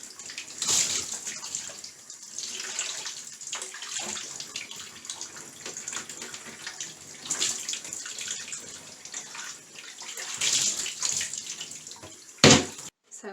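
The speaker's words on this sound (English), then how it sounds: "And then for final, you just want to rinse it really good." Running water pours and splashes as a Nurture Right 360 incubator is rinsed under a tap in a sink, a steady close hiss that varies with the flow and ends in a sharp knock.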